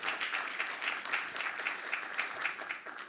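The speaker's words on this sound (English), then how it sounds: "Please join me in a round of applause for General Stanley McChrystal." Dense applause from an audience at a leadership dialogue event, honoring General Stanley McChrystal, fills the room as a steady, sustained wash of many hands clapping with no talk over it.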